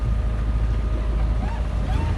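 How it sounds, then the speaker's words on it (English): A sailboat motors under engine through calm Arctic waters, giving a steady low engine rumble with wind buffeting the microphone and no speech. "So I'm just under engine,"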